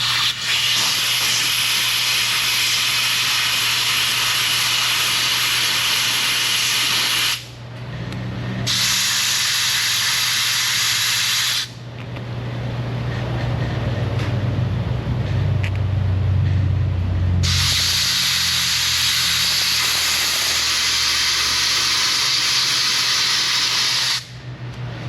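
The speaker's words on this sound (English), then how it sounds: "I will blow shop air in there again, make sure there's nothing left down in the center of the plug" Compressed shop air blasts into a spark plug from a 1962 Chevrolet C10 in loud hissing bursts, with short pauses between the blasts and no speech.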